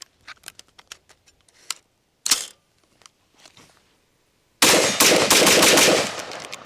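A paintball gun with a Shocker AR trigger fires in a stuttering string of sharp pops, then a short burst that pauses and a loud, dense continuous volley close by, with no talk.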